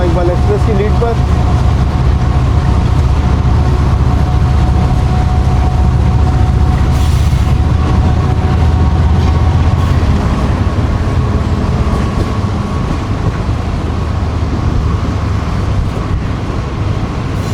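An AG30 locomotive leads the Allama Iqbal Express, heard as a loud, steady rumble of the moving train with constant low-frequency roar and rattling throughout.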